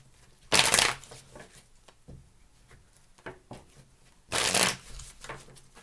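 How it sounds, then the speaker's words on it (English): Tarot cards riffle-shuffled by hand in two loud, brief bursts, with soft handling taps and card shuffling noises in between. "Two more shuffles."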